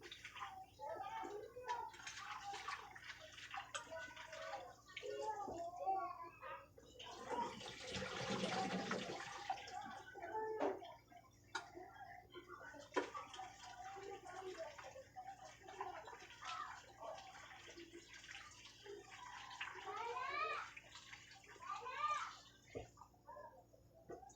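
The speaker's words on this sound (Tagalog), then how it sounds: "Manghinugasan ko na iyan ng mga kawali guys. Kaso lang banlaw na lang ba?" Washed frying pans are rinsed under running water, a steady close splashing and gushing that lasts throughout, with someone talking over it.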